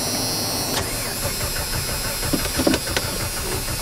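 A Jeep engine with a suspected failing fuel pump cranks repeatedly after sitting for about a month, a steady mechanical churn with faint clicks and no catch.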